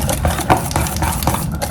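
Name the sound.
mixing henna paste in a bowl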